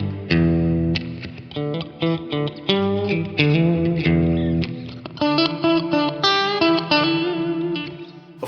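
Guitar through a Cornerstone NUCLEO effects unit set to a short reverb with heavy sub-octave, a run of distinct plucked notes and chords with deep added low tones and brief decaying tails, played loud and alone.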